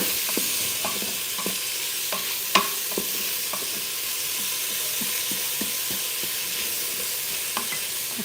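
Onions for a beef stew cook in a pan with an even, close sizzle, dotted with scattered clicks and soft pops of a utensil stirring, one sharper knock standing out.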